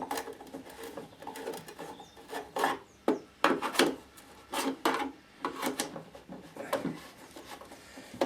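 Screws are unscrewed from a Ring smart battery charger under fault investigation, giving a series of short scraping, rasping turns of a screwdriver in irregular bursts, close and fairly quiet, with no talk.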